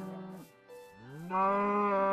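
Cows in Minecraft moo in low drawn-out calls, one after another, with the last swelling louder and holding steady, close and clear with no talk.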